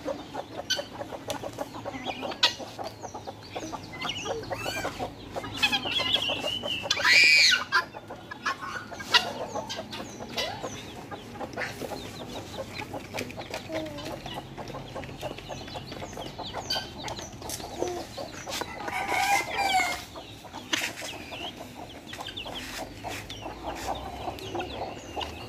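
A farm rooster and country chickens, just let out in the morning to feed, cluck and murmur steadily close by, with a louder squawk near the middle and scattered scratching and rustling sounds.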